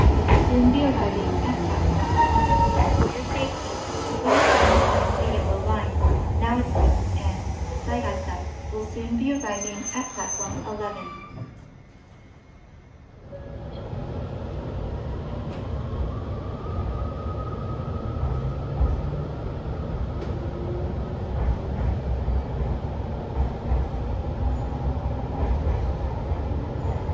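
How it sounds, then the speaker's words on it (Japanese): Hokuetsu Express Hokuhoku Line train pulling into a station platform, a steady loud rumble of wheels and rail noise that briefly dips then resumes, with platform announcements and voices heard over it. "直江津犀潟方面行きが11番線に到着します。"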